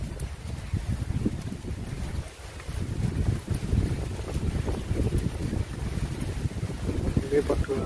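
Heavy rain and gusting wind sweep over rice fields in a rural Javanese village, a steady broadband roar with wind buffeting the microphone, heard continuously and up close from a field hut.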